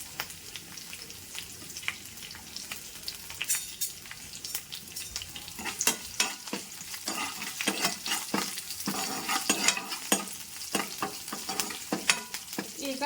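Green chillies and curry leaves fry in a pan, giving a crackling sizzle with sharp pops and spits that grow busier and louder over time, with no voices.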